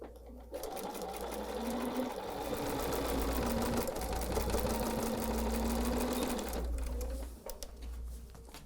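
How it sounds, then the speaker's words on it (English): Sewing machine stitching along the edge of a fabric hot pad, a rapid, even mechanical rattle running for several seconds close to the mic, starting and stopping abruptly at either end. "you want to be sewing about 1/8 of an inch away from this edge just to secure this whole thing together"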